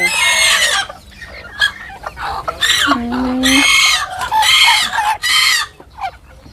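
Bantam chickens clucking and squawking loudly up close while one is being caught, in repeated harsh bursts with a short rising cackle in the middle, and a voice talking between calls.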